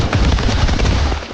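Gunfire in an action drama set in a forest, a dense, loud burst of shots and booming reports filling the whole short moment without pause.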